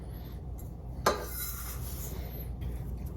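White sugar for a gluten-free pecan caramel cake is tipped from a measuring cup into a bowl, giving a brief close scrape and clink with a short grainy rush over faint background noise.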